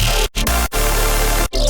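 A melodic dub-engine synth preset at a drop in an electronic track: loud, thick, wide-band sustained synth tones with a pulsing low end, cut by several abrupt short gaps.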